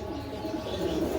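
A pigeon at a bird sale gives a short, soft coo, heard faintly and close over a low room hum.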